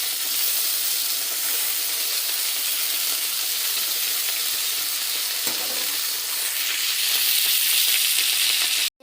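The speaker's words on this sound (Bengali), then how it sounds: "মাছ ভাজছি" Fish fries in a pan of hot oil, a loud, unbroken sizzle with some stirring and spatter, steady throughout before cutting off abruptly at the end, no voices.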